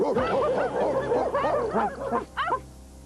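Human voices imitate a chorus of Muppet dogs, yipping and barking over one another in a loud, dense, overlapping clamour that thins out toward the end.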